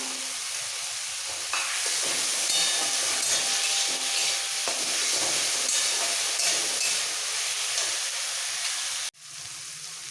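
Onion, tomato, ginger paste and garlic paste sizzle and hiss loudly in a hot frying pan while a spoon stirs them continuously, ending abruptly near the close with quieter frying after.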